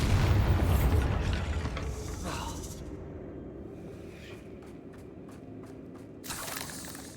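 A Bombarda blasting spell in Hogwarts Legacy erupts in a loud, booming explosion that rumbles and fades over several seconds, followed by faint rattling debris and a smaller late burst.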